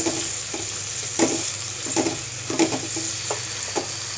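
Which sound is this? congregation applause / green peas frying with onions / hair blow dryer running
green peas frying with onions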